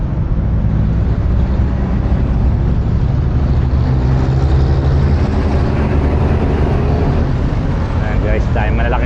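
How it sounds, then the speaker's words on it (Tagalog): Heavy truck traffic heard from a motorcycle rider's helmet: a loud, steady engine and road rumble with wind noise, continuous throughout with no break. "Ayan guys, dahil malalaking truck. Ayan, maingay talaga."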